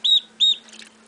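Two clear, high-pitched duckling peeps close by, followed by a softer flurry of faint chirps.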